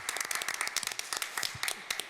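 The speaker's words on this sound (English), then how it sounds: "I feel like we should give him a round of applause though" An audience at a town meeting applauds, with dense, fairly close clapping from a modest crowd, irregular hand strikes blending together over about two seconds, and no talking.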